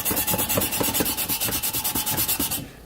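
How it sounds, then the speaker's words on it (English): An abrasive pad scuffs rust from the transmission pan of a 1960 Cadillac Series 62. The close, quick, rhythmic back-and-forth rubbing strokes are steady and even, with no voices, and stop at the end. "we're going to use a little abrasive and try to remove some of this rust here"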